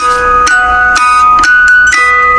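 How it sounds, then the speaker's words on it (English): A tinkling music box melody of the nursery tune My Grandfather's Clock from the game Five Nights at Freddy's 2, with bright plucked notes struck in a steady, evenly spaced rhythm, loud and close with no voices. "The music emanating from this box is the children's nursery rhyme, My Grandfather's Clock"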